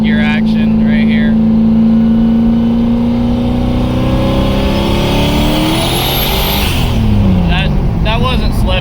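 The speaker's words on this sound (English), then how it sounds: "We'll hit a little third gear action right here." A Mazda Miata with a worn clutch pulls hard in third gear, its loud, steady engine note climbing in pitch as it accelerates close by, with a person talking over it at the start and end.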